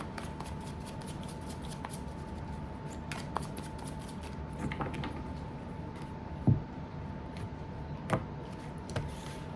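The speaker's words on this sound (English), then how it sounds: "I'm going to go ahead and shuffle and lay it out." Tarot cards being shuffled by hand during a daily reading, a steady soft riffling texture with a few sharper snaps and taps, close and quiet with no voice.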